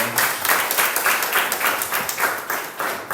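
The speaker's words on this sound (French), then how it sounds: "On peut applaudir pour l'accueil" A church congregation applauds to welcome a first-time visitor, loud and close, with rhythmic, pulsing clapping that runs steadily throughout and no spoken words.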